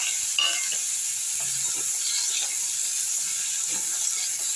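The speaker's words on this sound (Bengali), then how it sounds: "এবার আমি আলুটাকে ভেজে নেব।" Potatoes frying in hot oil in a wok over a gas flame, giving a steady close sizzling hiss with occasional faint stirring clinks, no voices.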